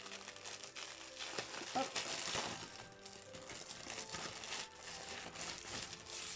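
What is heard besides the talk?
opening the packaging of a DIY cross-stitch kit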